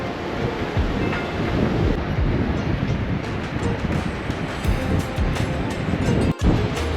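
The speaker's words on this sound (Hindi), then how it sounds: "पानी का बहाव देखो अब कितना तेज़ हो चुका है, बहुत ज़्यादा तेज़ हो गया पानी का बहाव।" Fast-flowing river water near Phugtal Monastery in Zanskar gives a loud, continuous broadband rush, steady throughout with a brief dropout near the end.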